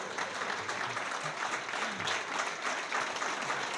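Steady audience applause at a food websites award ceremony, a dense wash of many hands clapping evenly for several seconds with a faint voice or two underneath.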